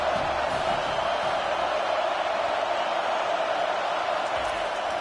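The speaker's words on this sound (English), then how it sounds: "Decibels rising as the crowd gets behind this defense on third down" A football stadium crowd roars steadily in support of the defense on third down, a loud, continuous wall of cheering that holds at a constant level for several seconds.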